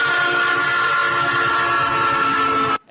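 A BNSF freight train horn blares loud and close in one long sustained blast that holds steady for nearly three seconds and then cuts off sharply.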